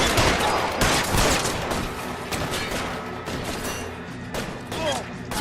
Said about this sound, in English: Why do they not have gunfights more often in this game?